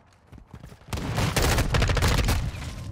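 Modern Warfare 2 gunfire, a few quiet distant shots at first, then sustained loud close automatic fire with rapid overlapping bursts and cracks for the rest of the moment.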